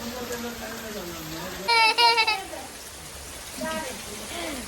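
Heavy monsoon rain falls on paddy fields during rice planting in Karjat, a steady broadband hiss throughout, with children's and adults' voices talking over it.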